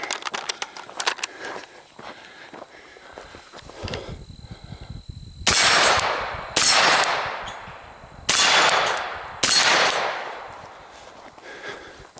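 Rifle shots from an 11.5-inch suppressed rifle on an outdoor shooting course, four sharp near reports with echoing tails spaced a second or two apart, preceded by softer rustling and handling noise.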